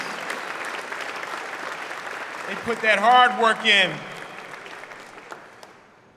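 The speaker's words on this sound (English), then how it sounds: "And our members of City Council, please give them a round of applause." An audience at a ribbon cutting ceremony for a youth sports center breaks into a short burst of clapping that swells and fades, with someone speaking over the applause.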